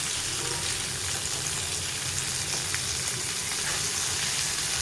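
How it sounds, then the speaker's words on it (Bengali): Pomfret fish frying in a pan gives a steady, even sizzle and crackle throughout, close and fairly quiet, with no voices. "এখন এই যে পমফ্রেট মাছ ভাজছি, মা বেটিকে খাবো গরম গরম।"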